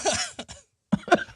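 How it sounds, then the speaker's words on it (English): Two bursts of coughing separated by a short silence, the first a rough hacking cough, the second a couple of sharp, close coughs. "coughing"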